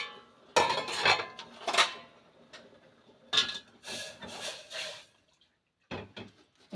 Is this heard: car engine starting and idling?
no